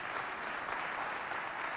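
Steady, dense audience applause from a youth group's holiday show, a continuous wash of clapping without a break.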